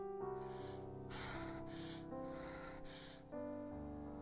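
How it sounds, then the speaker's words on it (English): Heavy, gasping breaths from a character in a romantic visual novel game, several drawn-out huffs over a steady music bed, close and fairly loud. "That's heavy breathing, yeah."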